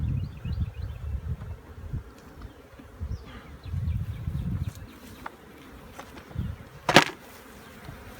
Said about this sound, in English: so that there's a bunch of bees in the box, they can go down